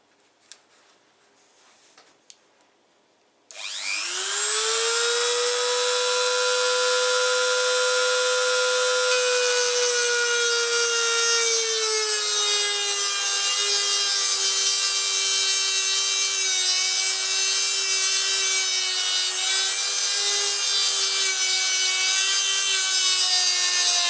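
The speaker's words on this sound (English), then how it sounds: "It's almost like a grind wheel, this, a very thin grind wheel." A very thin abrasive cutting disc grinds through a steel smooth rod for a 3D printer, spinning up after a few quiet seconds into a loud, sustained, high-pitched whine with a slowly drifting tone, close and continuous.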